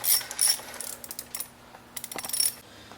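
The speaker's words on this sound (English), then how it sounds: "remove the 4 center stack bolts with a 10mm socket" A ratchet wrench with a 10mm socket clicks in short bursts while loosening valve cover bolts on a BMW E46 engine, close metallic ticking in several separate runs with brief pauses between, no talking.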